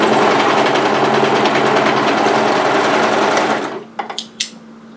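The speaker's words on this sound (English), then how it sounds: "Take your neckband and place it right sides together and overlock a short seam." An overlock machine runs fast and steady as it sews a short neckband seam on a drop shoulder sweater, close and loud, then stops, leaving a few soft clicks and knocks.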